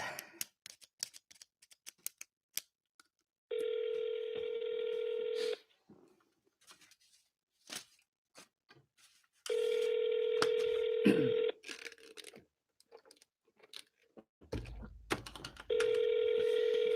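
Telephone call tones while placing a call: three steady electronic tone bursts, each about two seconds long and separated by longer pauses, with sparse faint clicks and rustles in between.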